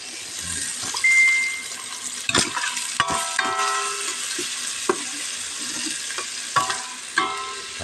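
Tomatoes fry in a pan, giving a continuous soft sizzle broken by sharp scraping clacks as a utensil stirs them at irregular intervals, heard close with no talk.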